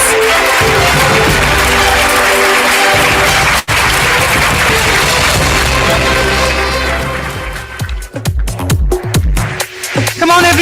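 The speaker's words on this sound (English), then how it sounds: "let that applause continue" Sustained audience applause fills a room at a women's leadership awards ceremony, steady and loud for several seconds before thinning into scattered claps and fading, with a brief dropout early on.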